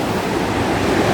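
River water rushing at the Alaknanda–Mandakini confluence at Rudraprayag, a loud, steady broadband roar with no pauses and no voices.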